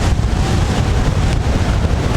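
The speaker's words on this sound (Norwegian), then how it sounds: "Selv om det kjipt å gå med vinden I trynet." Strong wind blows across an open mountain plateau on the Hardangervidda, buffeting the microphone with a loud, steady, roaring rush throughout.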